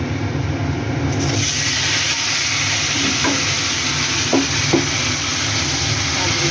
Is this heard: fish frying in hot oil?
yes